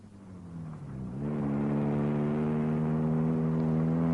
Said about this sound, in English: I got in my car and drove at a high speed.